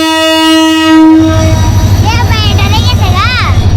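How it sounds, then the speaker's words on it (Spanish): A locomotive horn blasts loud and close for over a second beside a train in a crowded city, then cuts off as rail rumble continues and someone talks excitedly over it. "los bocinazos que pega eso, ahora lo vamos a grabar en cuanto se vaya"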